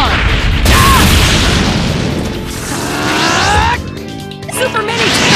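A Super Mini Tail Beast Bomb attack in Naruto Ultimate Ninja Storm Revolution, loud booming blasts and crashing impacts under game effects and excited shouted voices throughout.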